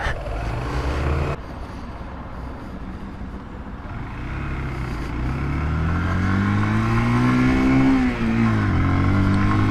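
A 2018 Zontes Monster 125cc motorcycle revs up and accelerates through its gears, the engine note climbing steadily and dropping briefly at each shift, loud and close throughout with no talking.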